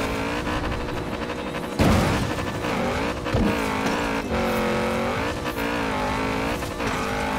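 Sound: Lamborghini Urus engine in video game Forza Horizon 4

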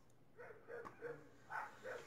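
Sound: dogs barking outside

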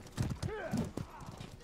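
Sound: horse galloping and neighing in the video game Mordhau

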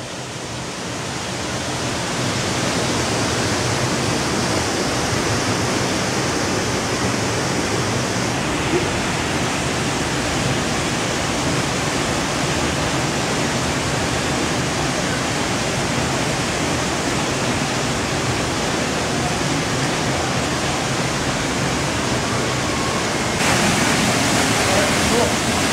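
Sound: waterfall in Costa Rica

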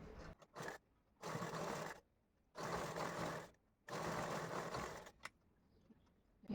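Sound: sewing machine stitching a sleeve

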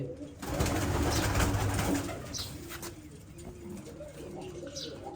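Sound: pigeons cooing

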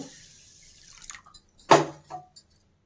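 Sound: water while washing rice for mint pulao

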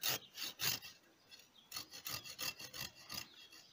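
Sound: hand saw slowly cutting a pear branch

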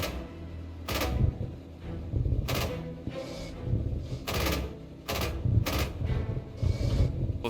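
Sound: tank firing HE shells, video game

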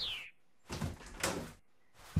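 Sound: door opening in a video game

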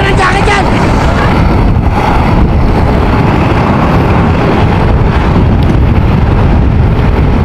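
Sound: cold wind

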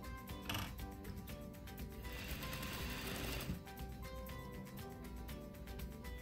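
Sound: sewing machine stitching a swimsuit shelf bra

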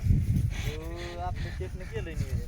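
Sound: bull lowing at bullock race ground

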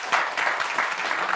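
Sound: audience applause

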